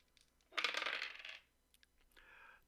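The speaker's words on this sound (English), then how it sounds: "we got the 2 dice." Two dice rolled for a tabletop roleplaying game, a close, loud rattling clatter of about a second, then a brief faint tick and a softer tonal sound, no talking.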